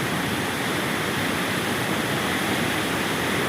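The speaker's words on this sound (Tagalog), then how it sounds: "Lakas ng bulwak ng tubig, galing kabundukan." Powerful rush of floodwater pouring down from the mountains at Wawa Dam, a loud, unbroken roar of churning water filling the whole span with no voices.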